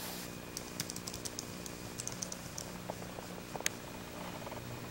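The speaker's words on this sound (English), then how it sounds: "you can use this Bluetooth keyboard." Keys tapped on a Bluetooth keyboard paired with a Samsung Windows 8 tablet, a quiet irregular run of light clicks over a low steady hum, with no voices.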